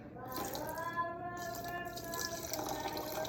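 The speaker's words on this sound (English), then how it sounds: "First, I'm just gonna add 750 grams of water, and it's warm." Warm water is poured into flour for sourdough, a steady trickling fill with a rising gurgling pitch, close and fairly quiet.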